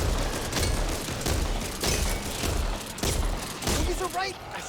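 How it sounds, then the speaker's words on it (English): Gunfire in the co-op zombie shooter Back 4 Blood comes as a series of heavy, close shots at an uneven rhythm, with thuds and mechanical clatter mixed into the game's loud background noise. "I shoot it in the head."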